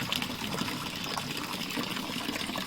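Home-distilled liquor poured into a jerrycan at a trekking lodge near Annapurna Base Camp, a steady continuous gushing fill, moderately close, with no talk.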